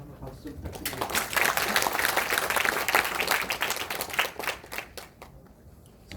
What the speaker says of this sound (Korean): 다시 한번 박수 좀 부탁드립니다